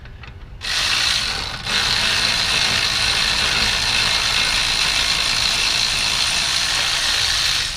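A ratchet working loose the front brake caliper bolts on a first-generation Chevy Cruze: a loud, steady mechanical clicking whir that starts abruptly and runs on continuously and close, with no speech.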